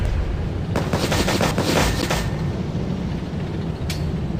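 Tank guns in Tank Legion fire a quick cluster of sharp, loud blasts over a low rumbling bed, followed a moment later by one short, isolated crack.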